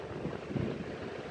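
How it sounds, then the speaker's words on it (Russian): Strong wind through trees at a country garden plot buffets the microphone in a low, steady rumbling roar with gusty swells, no voices. "Ветер у нас сильный, как видите, по деревьям."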